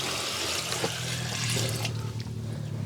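Liquid pours steadily into a pot while preparing a Jamaican roots tonic outdoors, a loud continuous close rushing splash that thins slightly toward the end.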